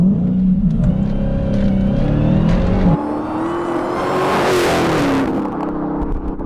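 A 2018 Dodge Challenger Hellcat Widebody launches hard, its engine note climbing loud and close through a gear change, then pulling strongly again with a rising roar.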